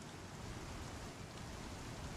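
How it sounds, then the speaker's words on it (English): Steady rain pours in the Star Citizen video game, heard standing on an airlock: a dense, even hiss of falling drops with no breaks and no talking. "Just hearing that rain sound kick in."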